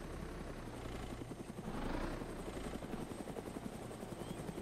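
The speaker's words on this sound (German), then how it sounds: "du hast dir mein Heli verdient" A helicopter in the DayZ video game drones with a steady, loud rotor thrum, swelling briefly as it passes closer before settling back to an even hum, with no voices.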